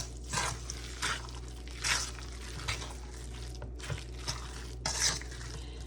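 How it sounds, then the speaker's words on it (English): A meatloaf mixture mixed by hand in a bowl for a crockpot meatloaf, with soft wet squishing and squelching in irregular pulses every second or so, close and quiet, with no talking. "Then we're going to give this a mix. Get everything combined."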